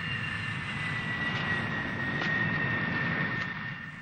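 An airplane on final approach to land, its engine holding a steady, loud drone with a sustained tonal whine throughout and no voices over it.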